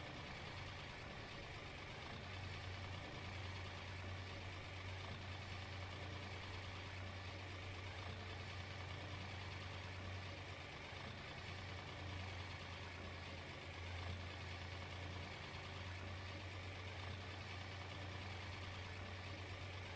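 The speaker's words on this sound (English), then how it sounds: "Kind of like this little tractor." A small farm tractor engine idles steadily with a low constant hum and faint mechanical noise, distant and quiet, with no voices.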